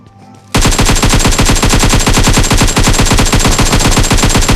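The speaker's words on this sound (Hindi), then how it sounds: "इस दोनों को तो मैं एक एक गोली मार के निपटा देता हूँ" Sustained automatic gunfire in PUBG bursts out after a brief quiet lead-in, a loud, rapid, evenly spaced stream of shots that continues without pause to the end.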